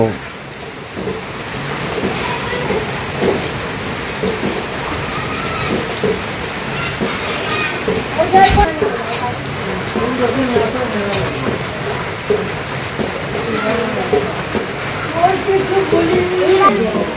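Steady rain falls in a village during the rainy season, a dense hiss continuing throughout with brief louder patches and faint rumbles, while people talk over it at intervals.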